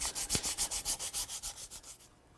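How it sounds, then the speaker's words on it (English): Sandpaper rubbed back and forth over a wooden table part, blending the surfaces, in a quick even rhythm of about a dozen close scratchy strokes that fade out at the end. "Now I'll just blend everything together using various grits of sandpaper."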